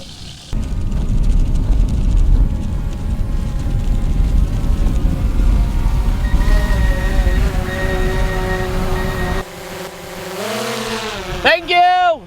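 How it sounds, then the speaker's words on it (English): A delivery drone flies overhead at a lakeside survival camp, its buzzing propeller whine rising over a loud, steady broadband rumble, then swelling and bending in pitch as it comes closer. People talk intermittently. "Oh, I think I hear a drone."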